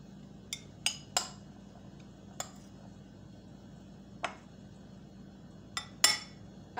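Utensils mixing coleslaw in a bowl give about eight sharp, sparse clinks and scrapes at uneven intervals in a quiet room.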